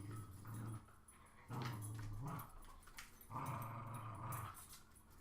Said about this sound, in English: I keep turning and watching my dogs play tug of war in the background